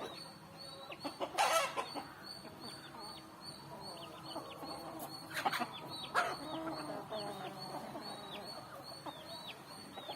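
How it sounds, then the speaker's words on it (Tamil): Peruvidai fighting chickens clucking and calling outdoors, several birds giving repeated clucks and sharp squawks at moderate distance over a steady background of insects and ambient noise. "பயங்கர ஆக்டிவாக இருக்குங்க கோழிகள்."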